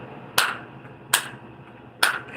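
Three sharp, separate claps sound at a steady pace, each one crisp and fairly close, with nothing else around them.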